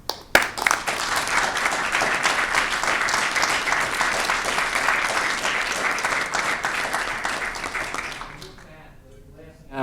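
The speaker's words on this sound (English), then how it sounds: "we do a round of applause for all of those that work for the township" A round of applause at a township Board of Commissioners meeting, with a roomful of people clapping steadily and fairly loudly for about eight seconds before it fades out into near silence, followed by a faint sound at the very end.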